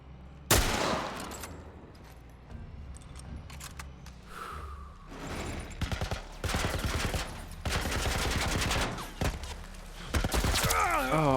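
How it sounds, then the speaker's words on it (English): Two heavy bursts of automatic gunfire from The Last of Us, rapid strings of sharp cracks in the second half after a single loud shot and quieter gaps, with some shuffling movement between. "they just shot like 2 big bursts"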